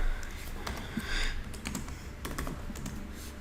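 Code is typed on a computer keyboard with quick, uneven bursts of clicking keystrokes, close and fairly quiet, with no voices.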